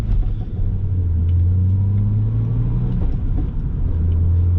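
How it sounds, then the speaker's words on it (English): An older BMW car, about 21 years old, drives along a backroad with a steady low engine and road rumble throughout, close and continuous; the transmission's clunkiness is not distinctly audible. "If you guys hear the clunkiness of the trans, it's because it's a BMW, and it's also an older BMW"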